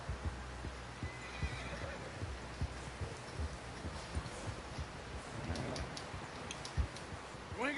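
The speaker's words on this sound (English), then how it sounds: "Someone help John down off this horse." A horse in Red Dead Redemption 2 whinnies loudly near the end, over a steady bed of hoof clip-clop and outdoor ambience, with faint voices in the background.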